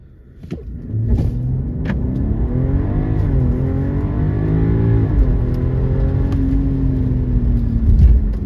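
A 2026 BMW 540i Legacy Edition with an 8-speed ZF automatic and all-wheel drive launches hard, its engine note climbing in steady rising sweeps through quick upshifts, heard from inside the cabin as a loud, sustained rumble.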